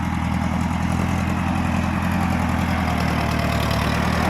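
A Ford 6600 tractor engine runs steadily as it pushes against a tree, a loud, constant diesel drone with a low rhythmic throb and no change in pitch. No one talks.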